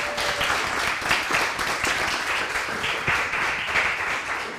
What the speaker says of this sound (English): Big round of applause for our panel.